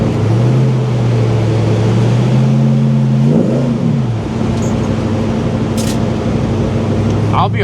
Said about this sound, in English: I really was not expecting this exhaust system, this whole setup, to sound as good as it does on this car.